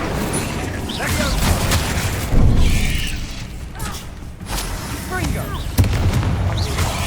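The Incendio fire spell cast in Hogwarts Legacy bursts out as whooshing, booming flame amid a busy battle, with several sharp impacts and clanks mixed with speech.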